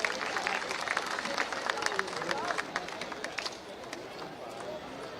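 Audience applause at a Govardhan Puja event in Gwalior, a steady, dense clatter of many hands clapping, fairly loud, thinning out toward the end under crowd murmur.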